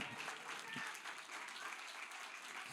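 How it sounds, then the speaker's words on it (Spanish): A church congregation applauds in praise to God during a Spanish-language sermon, a steady wash of many hands clapping at moderate distance that fills the whole moment without break. "¿Cuánto le dan palmas de alabanza al Señor en esta hora?"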